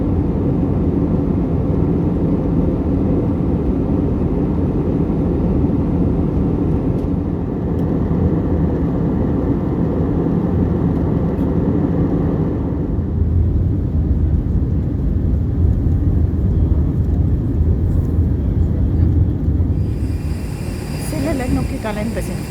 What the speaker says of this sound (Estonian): Frankfurti lennujaamas.